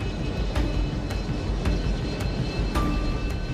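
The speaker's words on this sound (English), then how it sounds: "As the plane descends" A fixed-wing airplane descends in mountainous terrain above busy ski slopes, its engine drone steady and fairly loud throughout, with no talk over it.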